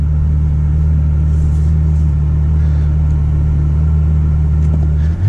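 A Ferrari F12 V12 engine held at steady high revs, a loud continuous low drone that stays level with no voices, then shifts pitch right at the end.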